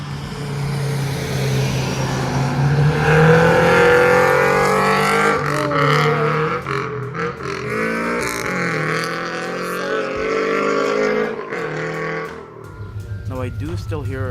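A Subaru BRZ fitted with a Nameless high-flow catted front pipe and overpipe roars past in repeated flybys, its engine note climbing and swelling loudly, then fading as the car passes.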